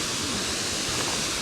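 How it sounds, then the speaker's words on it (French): Waterfall on Réunion island, a steady broadband rush of falling water, loud and continuous without a break. "regardez cette cascade du Niagara"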